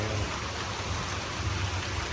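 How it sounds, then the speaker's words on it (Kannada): Rain comes down at an outdoor resort as a dense, even rush of drops, loud and close, with no break. "ಮಳೆ ಬಂದ್ಬಿಡ್ತು"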